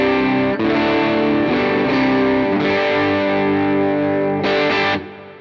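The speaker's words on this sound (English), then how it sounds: "this is the amber drive. This is supposed to be like a Marshall. It's the least compressed. It sounds like this." Electric guitar played through a Jackson Audio Broken Arrow overdrive on its amber, Marshall-style setting, heard as loud, lightly compressed distorted chords strummed in short bursts with a final chord cut off, no talking.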